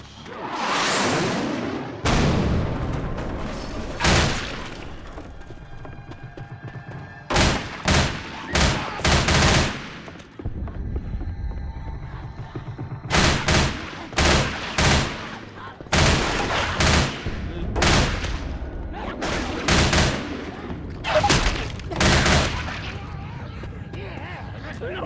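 Loud bursts of gunfire and heavy booming frag-round blasts in the Left 4 Dead 2 video game come in clustered volleys with short gaps, close and punchy throughout.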